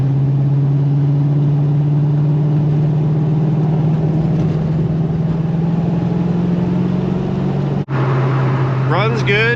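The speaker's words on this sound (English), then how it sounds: "Runs good, drives good, she shifts good, she sounds good." A 1990 Ford Mustang Foxbody GT with a 5.0 V8 and custom exhaust idles steadily nearby, a continuous low rumble holding for nearly ten seconds with a brief dip near the end and a voice at the close.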